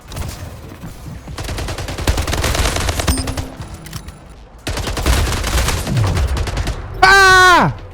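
Rapid gunfire bursts from a competitive shooter video game, loud and close, with a sharp rising electronic effect at the end and excited voices reacting between shots.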